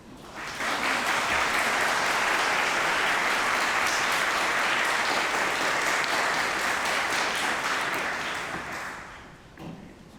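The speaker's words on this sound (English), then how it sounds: "give a big round of applause to help all those who've supported you" Graduates standing at a University of Manchester graduation ceremony give a big round of applause, a dense, continuous wash of clapping from a large hall that swells quickly, holds, then fades near the end.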